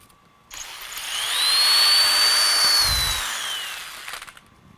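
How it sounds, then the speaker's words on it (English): A power drill bores straight through the center of a foam prosthetic model in a fabrication shop, a steady high-pitched whine rising from 0.5 s, peaking mid-clip and tapering off, close and loud with no talking. "drill a hole directly through the center of the model"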